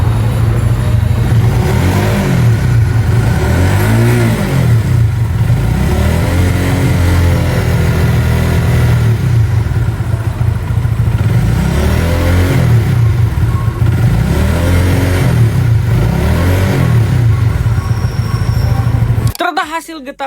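A reassembled Honda CB150 motorcycle engine runs steadily at idle for about twenty seconds, a loud continuous mid-low drone with slight rhythmic pulsing, close to the machine, cutting off abruptly at the end.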